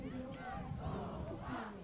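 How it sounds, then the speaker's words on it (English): At a Wichita Heights versus Wichita North high school football game, a band-led crowd in the stadium chants and yells together, a brief, dense swell of many voices. "That's a chant that they led all basketball season too."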